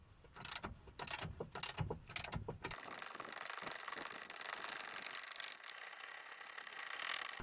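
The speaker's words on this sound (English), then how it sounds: "take the front bolt out of the wishbone" A ratchet works the front bolt out of the lower wishbone on a Jaguar X-Type, with a few separate clicks and then a steady, close, rapid ratcheting buzz that grows slightly louder.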